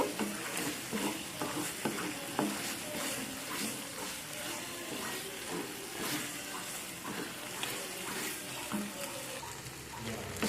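Masala paste for a vegetarian matar paneer gravy being bhuna-fried and stirred in a pan, with steady dense sizzling and repeated scraping strokes throughout, close and fairly loud, no talking.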